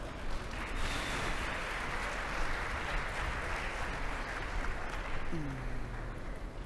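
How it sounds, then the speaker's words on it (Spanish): Audience at an executive conference session on public services gives steady, sustained applause to welcome the speakers. The clapping is fairly faint and diffuse throughout, and a brief voice sounds near the end. "Por favor, recibámoslos con un fuerte aplauso."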